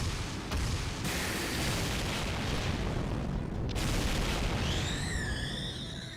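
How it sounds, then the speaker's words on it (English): A barrage of impacts in the game Fate Grand Order: dense, continuous rumbling booms and blasts roll on without pause at high volume, and near the end a rising and falling whine cuts in over the din. "Consecutive impacts confirmed."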